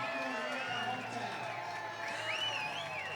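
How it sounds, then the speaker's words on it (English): Crowd cheering along the route of a firefighters' parade at an apple blossom festival, faint and distant, with scattered whistles and voices rising over a low background murmur and nearby talk. "you can hear a lot of people cheering"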